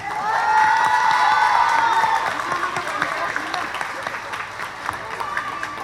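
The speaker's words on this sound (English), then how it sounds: "please help me welcome with a round of applause, Teacher Aimee Cruz." A school production audience claps loudly and steadily, with scattered cheers and whoops. The applause fades slightly but keeps going throughout.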